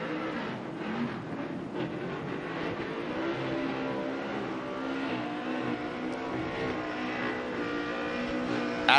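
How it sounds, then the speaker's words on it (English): A Ford Mustang RTR Spec 5 drift car runs on a Formula Drift track at Irwindale, its engine a steady distant drone with shifting tones over crowd and ambient noise throughout. "There's Adam LZ leaving in his AutoZone Mustang RTR Spec 5."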